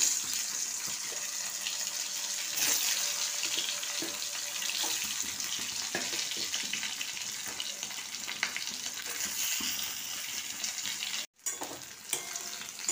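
Turmeric-coated potato strips fry in hot oil with a steady, close, bright sizzle that runs throughout, broken by one brief dropout near the end, with no talk.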